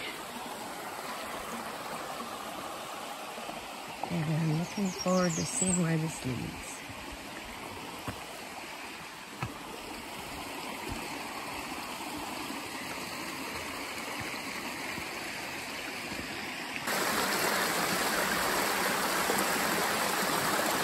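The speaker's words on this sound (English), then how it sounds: "We're walking alongside this beautiful babbling brook." A babbling brook runs beside a forest trail in a Pennsylvania state park, a steady close rush and gurgle of water throughout, with a person speaking briefly over it early on.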